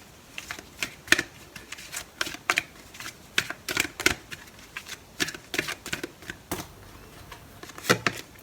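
Tarot cards being shuffled and drawn indoors: a close, irregular run of crisp riffling snaps and soft flicks, scattered across the whole stretch with brief pauses between bursts.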